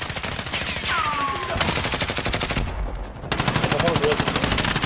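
Rapid automatic gunfire from a Call of Duty Warzone match rattles almost nonstop in dense bursts, loud and close, with only a brief drop in the middle.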